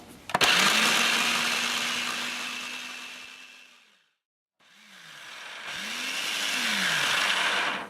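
A food processor pulses dates and red onion for homemade ketchup: two loud motor bursts, each spinning up and winding down, separated by a brief silence.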